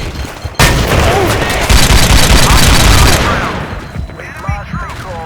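A frag grenade detonates in Battlefield 2 with a sudden loud burst that roars on for a few seconds amid crackling gunfire, then fades into quieter battlefield noise with faint voices.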